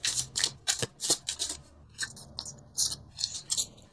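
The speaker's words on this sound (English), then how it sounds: "I'm going to pull 2 more cards for you." Tarot cards being shuffled and pulled from a deck, giving a run of brisk, close papery swishes and flicks in quick irregular bursts with short pauses between them, and no voice over them.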